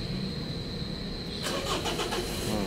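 A car engine starting, a quiet hum followed by a burst of cranking and catching partway through, then a steady running engine.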